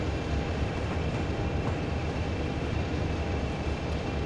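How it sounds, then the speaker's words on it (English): A freight train with empty hoppers rumbles past in Train Simulator 2017 as a steady, loud, continuous roar of wheels and wagons, with no speech. "Freight train hype, look at this."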